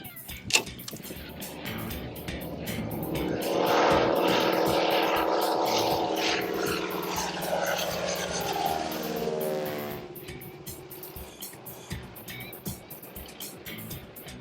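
A propeller plane near a mountain caribou hunting lodge pulls away, its engine drone rising to a peak and then fading steadily into the distance until it is gone.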